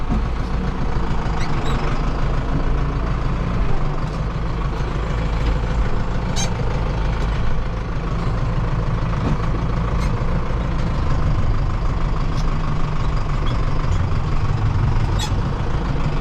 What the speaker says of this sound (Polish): skoro już tu mam ciągnik odpalony